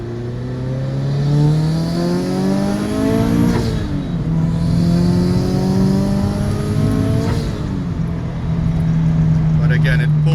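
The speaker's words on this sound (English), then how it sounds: "So we're in 2nd gear now, just to do a quick pull." A turbocharged 2013 Scion FR-S with a stage 2 turbo kit accelerates hard in second gear, its engine note climbing steadily through two pulls with a shift between, loud and close from inside the cabin under faint talk.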